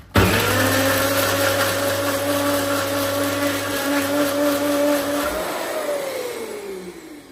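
A mixer grinder coarsely grinding soaked dried red chillies with their water roars at a steady high pitch for about five seconds, then winds down as the motor slows to a stop.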